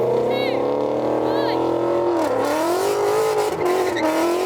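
A Porsche 911 and a Shelby GT350 Mustang launch side by side in a drag race, engines roaring loud and close with rising revs and gear-change dips, a brief tire chirp near the start.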